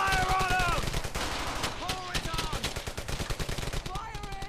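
Rapid bursts of automatic gunfire and single shots in the World War II shooter Brothers in Arms: Hell's Highway, loud and near, with short shouted voice lines between the volleys.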